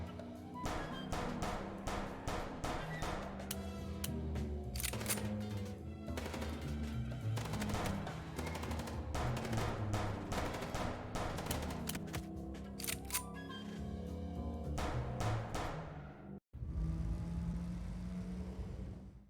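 Rapid bursts of gunfire aimed at a car during a chase in the video game Chicken Police, loud and sustained over a steady engine drone, then stopping abruptly and leaving a softer hiss.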